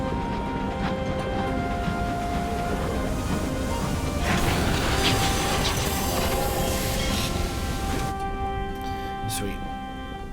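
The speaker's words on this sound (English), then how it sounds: "The sound of the train is hypnotic." A locomotive from the video game Sunless Skies runs continuously, a steady rumbling chug with sustained tonal hums and whistling overtones that swell slightly in the middle and ease toward the end, with no voices.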